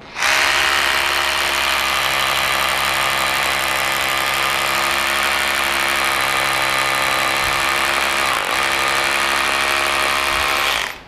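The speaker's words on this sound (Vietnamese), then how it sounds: "Bây giờ mình sẽ cho anh em xem mình đang khoan như thế nào ha." Cordless Ingco concrete drill boring into concrete, a loud, steady whining roar that runs unbroken for about ten seconds, with brief dips near the end.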